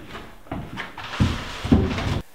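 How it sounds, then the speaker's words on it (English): A handmade wooden workshop door is pulled off its frame, giving several close knocks and wooden thuds, then a scraping shift and a final heavier bump, with no talking. "So I'm gonna pull the door off real quick."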